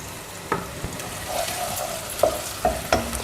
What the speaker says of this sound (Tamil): பாருங்கள் இன்னும் கொஞ்சம் ஃப்ரை ஆகட்டும்.